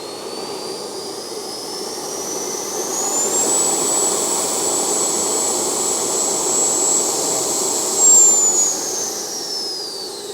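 An FMS Futura 80mm electric ducted fan RC jet strapped to a table for a thrust test, its fan spooling up to a loud, steady high-pitched whine that holds for several seconds, then briefly surges and winds down near the end.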